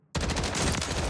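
Rapid gunfire from a sniper-support weapon in Call of Duty Warzone, a dense burst of repeated shots starting abruptly and continuing loud and close throughout, with no talking.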